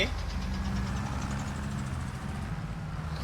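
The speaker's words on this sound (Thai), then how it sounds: "โอ้รถไถ" A tractor engine in Farming Simulator 25 drones at a steady low idle-like rumble, continuous and fairly even, with a player talking over it.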